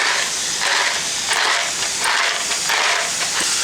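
Onion coated in olive oil cooks in a pan, giving a steady, close hissing sizzle that swells and eases slightly throughout, with no talking.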